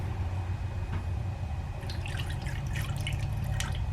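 Fruit punch is poured into a pitcher with ice, a close stream of liquid followed by splashing, dripping and light clinks as it fills over the ice.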